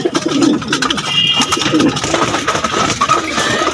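Pigeons after a bath cooing repeatedly nearby, loud throaty coos overlapping in uneven rhythm with light fluttering and pecking sounds.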